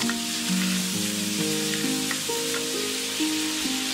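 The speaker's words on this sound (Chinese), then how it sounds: "用中大火把鸡块炒香" Chicken pieces stir-fry in hot oil over medium-high heat, a continuous close sizzle and crackle with scraping spatula strokes layered over a low droning tone, no voices.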